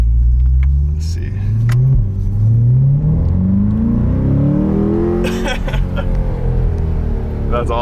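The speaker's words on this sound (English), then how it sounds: "you can just hear it rumbling behind your head" A 2020 Corvette C8 convertible engine rumbles deep and loud right behind the cabin, rising steadily as it revs, with faint clicks and a brief shift near the end.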